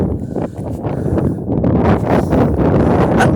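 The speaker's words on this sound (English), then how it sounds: "It's kind of windy out here" Strong wind gusts buffet an outdoor microphone, a loud continuous low rumble that swells and grows steadier toward the end, with no clear voice over it.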